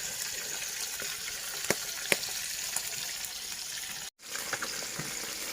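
Harvested catch frying in a pan late at night, a steady broad hissing sizzle with occasional sharp pops and crackles, close by, briefly cutting out near the end before resuming.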